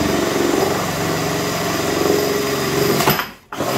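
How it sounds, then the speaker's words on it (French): A power drill runs steadily and loudly as it bores through the other side of a go-kart seat, whining without a break before cutting out abruptly near the end. "et on va percer l'autre côté"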